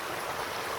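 A stream runs high after a night of heavy rain on rural property, giving a steady, broadband rushing of water that fills the moment without pause or voices.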